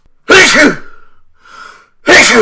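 A loud, close sneeze, then a short fainter breathy sound, followed by another sharp sneeze.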